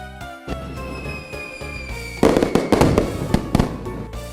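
Fireworks burst in quick succession, sharp crackling pops and booms layered over each other, growing denser and louder midway through.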